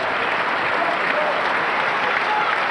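A packed crowd at the Apollo Stadium applauds during a 1985 NBL basketball game between the Adelaide 36ers and Canberra Cannons, a broad, sustained wash of clapping and cheering from a large indoor arena.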